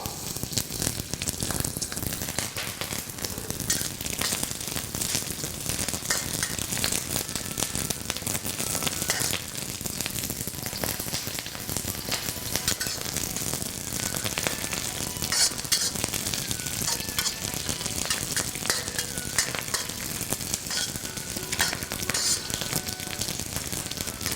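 Ginger slices and green onions sizzle and crackle steadily in hot oil in a wok being seasoned, a loud, dense frying hiss with stirring scrapes running continuously throughout.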